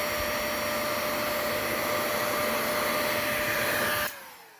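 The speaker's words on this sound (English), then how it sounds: "Then the heat shrink gun. Let it get hot." A heat shrink gun roars with a steady, loud blowing whir for about four seconds, then switches off and spins down quickly.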